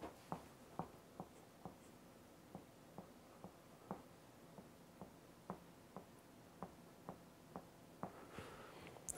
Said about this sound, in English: let me write it down in binary again